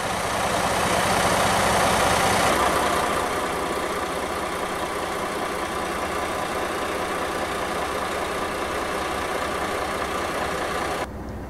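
A 2011 International ProStar truck with a MaxxForce 12.4-liter, 450-horsepower engine idles loudly and steadily, a constant heavy rumble with no voices, slightly louder during the first couple of seconds.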